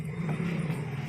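A car engine hums steadily on the road as a vehicle draws near, a continuous low rumble holding at an even level for the whole moment with no voices over it.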